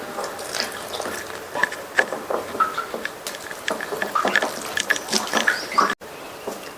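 Water being added little by little to dough for sweet carrot poli while it is kneaded by hand, a close, soft series of wet squishes, pats and trickles with an irregular rhythm and no talking.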